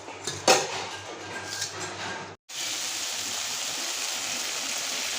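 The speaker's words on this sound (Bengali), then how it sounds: "আর এবার ডালটা ফোড়ন দিয়ে দেবো" Dal is tempered with spices in a hot pan, starting with a clatter. After a brief silence, a loud, steady sizzle and crackle of oil fills the rest of the clip.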